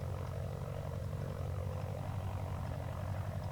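A Christen Eagle aerobatic biplane's propeller engine drones steadily in DCS World, a low, even buzzing hum that holds throughout.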